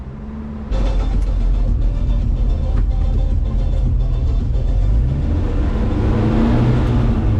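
Interior road noise of a Datsun 620 pickup driving on a road in Laos: a steady, loud low engine and tyre rumble that starts abruptly and holds throughout, with faint rattles and no talk.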